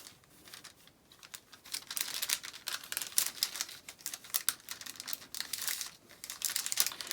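Crisp, continuous crinkling and rustling of a paper sewing pattern as it is creased and folded along dart legs, close and fairly loud with irregular bursts throughout, no talking.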